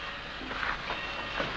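A passenger train on an old Western railway starts to pull away with a steady, dense rumble and faint rhythmic clatter of the cars, continuous and fairly close throughout.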